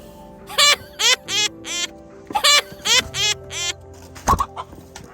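Loud, squawking chicken calls burst out in several sharp harmonic bursts close to the microphone as the bird is being caught, separated by short pauses, with a final harsh squawk and some handling noise.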